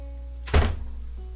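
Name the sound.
door closing in video game Katawa Shoujo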